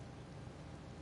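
Rain falls steadily in the Disney Dreamlight Valley video game, a soft, continuous, even hiss that stays faint and unbroken throughout.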